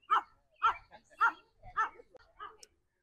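A dog named Sumo barks and yips in short repeated bursts at another dog, five or six sharp calls close by with brief whiny tones between them.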